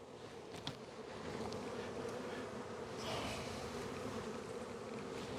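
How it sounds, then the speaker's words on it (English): Honey bees buzzing in a dense, continuous drone as they are shaken off a honey frame, with a few brief knocks and scrapes and no voices. "Shake the bees off of this honey."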